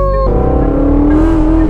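An 800 horsepower Ford Mustang GT350 with a Fathouse Performance build and worn tires accelerates hard, its loud, close engine note climbing steadily in pitch as it revs up alone.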